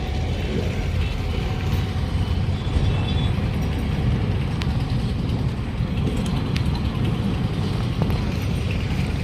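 Congested road traffic jammed on the Babubazar bridge, a steady dense rumble of engines and vehicle noise with occasional faint mechanical clicks, continuous and fairly loud with no talking.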